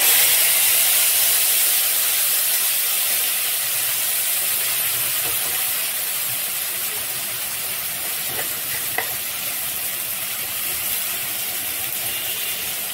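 A spice paste of ground coriander, cumin, ginger and chilli hits a hot pan for a vegetarian mince kofta curry, giving a steady, close sizzle and hiss that runs evenly throughout with no talking.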